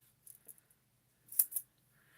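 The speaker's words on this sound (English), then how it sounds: "Tip when you're cutting foam" A few light snips, then two louder, crisp cuts of scissors through foam tape close by, with quiet pauses between.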